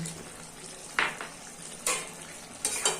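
A spoon stirs prawn, ridge gourd and potato curry with fried lentil dumplings in a pan, giving a few soft scraping strokes over a faint, steady sizzle, close and quiet.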